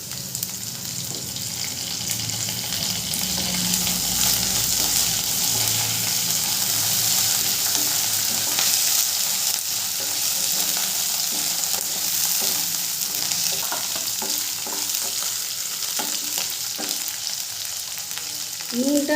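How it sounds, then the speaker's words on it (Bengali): Chopped carrots sizzle and crackle in a hot pan for a Bengali spicy semolina upma, with a spoon stirring and scraping through them, steady and close throughout. "গাজর কুচিটা দিয়ে একটু হালকা নেড়ে চেড়ে ভেজে নেব।"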